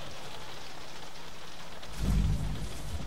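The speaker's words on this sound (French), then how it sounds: "J'ai l'impression qu'il pleut." Rain hisses steadily in the video game Alien Isolation, swelling around the midpoint into a low rumble like distant thunder before settling back into a constant wash, with no one speaking.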